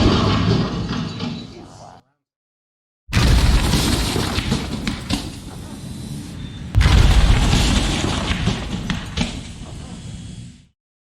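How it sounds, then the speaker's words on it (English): A lithium-ion battery-powered device bursts into fire in a sudden loud boom, a cut of silence, then two more crashing, crackling blasts that roar and shatter on for several seconds. "To actually see this, hear the explosion, I jumped."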